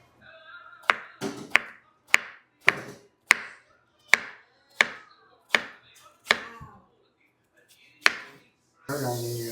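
Knife slicing small zucchinis on a cutting board, about eleven crisp chops at a fairly regular pace, close and clear, ending with a brief rustle.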